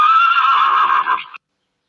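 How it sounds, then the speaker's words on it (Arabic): A horse gives one loud, close whinny that lasts just over a second and then cuts off into silence. "حصان."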